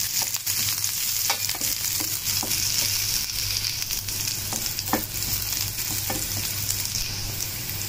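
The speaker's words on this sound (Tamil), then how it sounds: "இப்போது இந்த வெங்காயம் கட் பண்ணி வச்சுருக்கிற ஒரு 1/4 வெங்காயம் போட்டு வதக்கிக்கலாம்." Chopped onion and garlic sizzle steadily in a hot pan while a spoon stirs them, with soft scraping clicks scattered through the constant close frying hiss.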